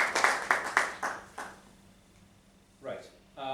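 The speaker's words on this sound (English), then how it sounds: "Please give a round of applause to our timekeeper," A small meeting audience gives the timekeeper a short round of clapping that starts strong and fades out, followed by a pause and then a voice speaking.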